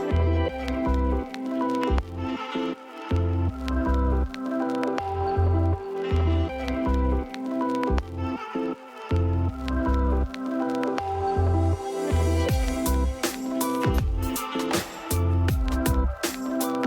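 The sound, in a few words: spreading rice layer with ghee evenly for mutton biryani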